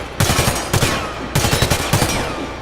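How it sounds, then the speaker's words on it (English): Bursts of Galil AR assault rifle fire in the Warface shooter game, four short rapid-fire volleys of several loud, close shots each, separated by brief gaps and trailing reverberation. "Galil AR, it has a high recoil. So if I shoot this"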